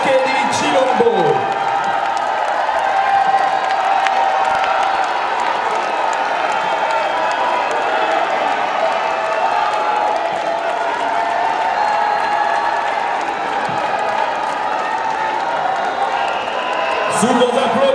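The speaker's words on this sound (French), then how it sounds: "sous vos applaudissements, le président de la République, Félix Antoine Tshisekedi Tshilombo" Large diaspora crowd in Brussels applauding and cheering for the Congolese president, a dense, steady roar of clapping and voices that holds for the whole stretch, with an announcer's voice over it at the edges.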